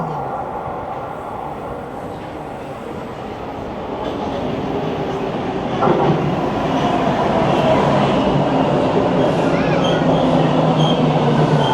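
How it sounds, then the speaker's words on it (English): A Toronto subway train rumbles into the station, its roar growing louder and closer, with faint metallic squeals and clatter as it slows. "here comes the train"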